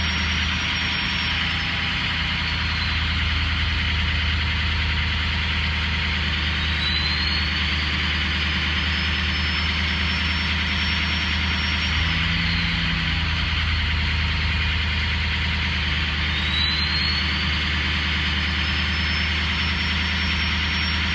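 A turbocharged 2003 car engine idling after a cold start, with a steady low rumble and a thin whistle that rises and falls several times. It runs unbroken and close for the whole stretch, with no talking.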